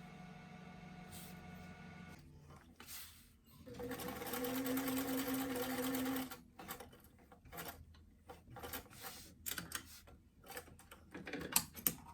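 A sewing machine stitches darts on the front bodice of a lined BJD doll dress, whirring in short bursts with one longer steady run in the middle, close and moderately loud, with no talking.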